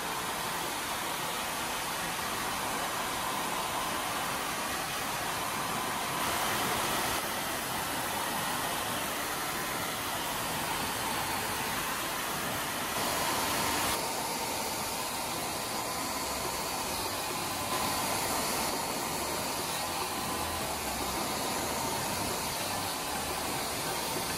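A hair dryer blows steadily and loudly at close range while wavy bangs are pulled straight with the fingers, giving a continuous broad rushing hiss with slight shifts in tone as the airflow moves.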